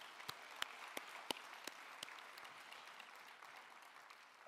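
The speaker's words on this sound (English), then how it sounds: "let's give them all a round of applause." An audience at a college commencement ceremony applauds softly from a distance, a steady patter of many hands with a few sharper, closer claps standing out near the start.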